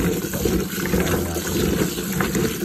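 Steady running tap water over ingredients being washed for binignit, a Filipino sweet stew with taro, continuous broadband rush at close range with no talk.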